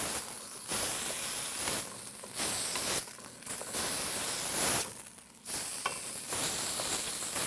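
Roughly chopped vegetables go into a hot soup pot and get stirred, giving loud hissing sizzle in long bursts. Brief quieter gaps break it up, and no voices are heard.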